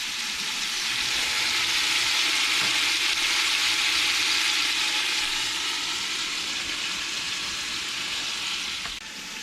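Oxtails sear in a hot pan with a loud, continuous, even sizzle that stays steady for several seconds and eases off slightly at the very end.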